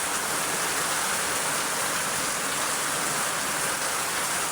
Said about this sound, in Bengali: এই দেখেন বৃষ্টির কি অবস্থা দেখছেন?